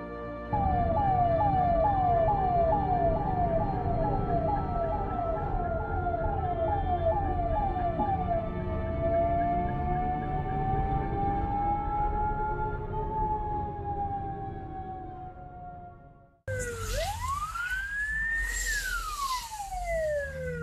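An ambulance siren wails in stuck traffic, a rapid yelp followed by a long rising and falling wail, loud and close, then switching to a higher sweeping tone.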